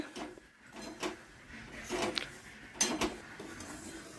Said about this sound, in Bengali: বেশ কিছুক্ষণ নাড়াচাড়া চলছে